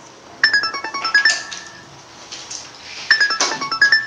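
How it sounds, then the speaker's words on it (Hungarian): A phone timer alarm chimes to mark time running out, a bright ringtone phrase repeated in two loud bursts with a short pause between them and no talk over it. "Oké, elment az idő, azt mondja a telefonom."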